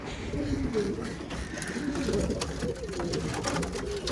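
Pigeons cooing in a loft on a windy, stormy day, soft repeated coos running steadily under gusty wind noise.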